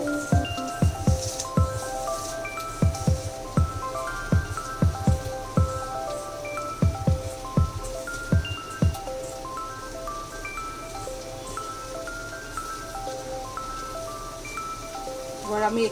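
Hands work samosa dough with refined oil, a run of soft wet squishing pats in an uneven rhythm under steady background music.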